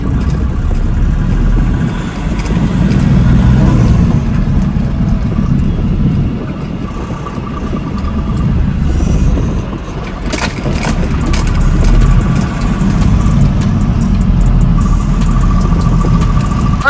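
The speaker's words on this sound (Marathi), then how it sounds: "बेंगलोरचं ट्रॅफिक" Continuous Bangalore city road traffic with low engine rumble and passing vehicles, wind buffeting the microphone, swelling and easing at times.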